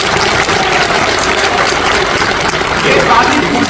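An audience at a soldiers' honour ceremony in Dehradun applauds loudly, a dense, sustained wash of clapping from many hands with a faint voice mixed in.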